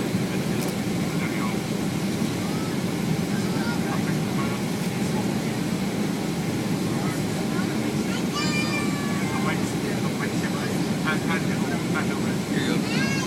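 An airliner landing at Newcastle Airport is heard from inside the cabin as a constant loud engine and air roar, with people's voices chattering faintly underneath throughout.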